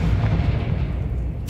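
A Confringo spell explosion in Hogwarts Legacy, a video game, lands as a heavy, booming low rumble that sustains at steady loudness for over a second before a brief burst at the end, with no voices.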